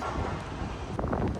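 Wind buffets a microphone on the open deck of the cruise ship Icon of the Seas, a dense, continuous roar with gusty low rumble and no talk.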